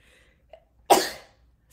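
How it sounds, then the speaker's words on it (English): A single abrupt, breathy burst from a person, close by, sneeze-like and sharp at onset, then fading quickly into quiet. "Oh, I'm gonna sneeze so bad."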